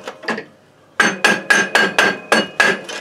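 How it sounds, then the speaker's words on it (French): A hammer drives a wooden block against the movable half of the variator pulley on a Microcar Virgo 2 microcar. Two lighter taps are followed by about eight sharp, evenly spaced close strikes. "vous mettez sur la joue mobile et au marteau."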